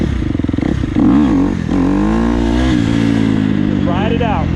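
A dirt bike engine revs on the throttle during a wheelie, climbing and falling in pitch with a sustained loud whine, close by and clear.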